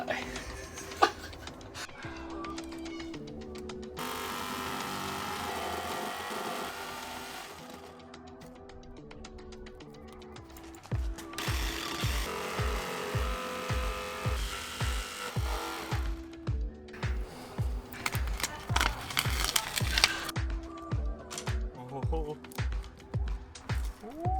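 A jigsaw cuts an opening for a diesel heater installation, starting with a steady buzzing run, a pause, then rapid pulsing strokes through the panel at close range, with talk heard at moments.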